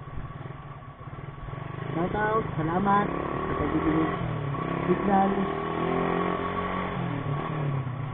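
Motorcycle engine running steadily while riding on a road, a continuous low drone with slight rises in pull, heard under people talking.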